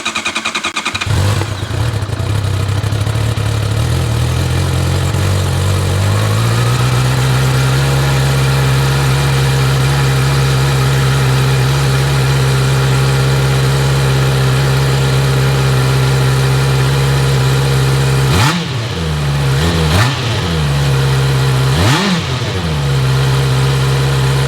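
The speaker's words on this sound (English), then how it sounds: "here is how the 2024 CBR 650R e-clutch sounds" A 2024 Honda CBR 650R E-Clutch motorcycle engine starts, settles into a steady, loud close idle, then gives three sharp revs that swoop up and drop back near the end.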